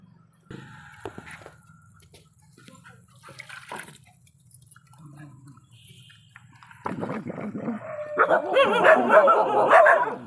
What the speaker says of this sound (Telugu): వీధి కుక్కలండి.